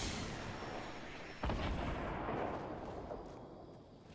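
A rocket launcher fires in Fortnite and rockets explode in booming blasts. A sharp detonation lands in the middle against a rumbling backdrop of distant explosions and gunfire.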